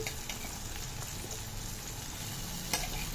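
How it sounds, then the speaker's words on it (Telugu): Drumstick leaves fry in a pan for kichidi, giving a steady close sizzle and crackle with occasional faint stirring clinks, and no talking. "మునగాకు వేసాను కొద్దిగా. ఇవి వేగాయండి"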